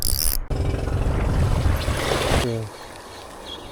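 A boat engine drones loudly nearby over rushing water, then cuts off sharply, leaving quieter water and wind.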